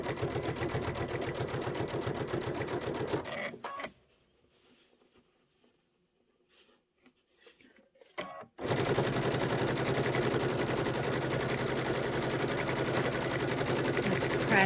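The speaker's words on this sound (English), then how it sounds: "we're going to go ahead and sew the hoops to the right side of this" A sewing machine stitching hoops onto fabric runs in a steady rapid whir, stops for a few quiet seconds with faint handling clicks, then starts again and runs continuously.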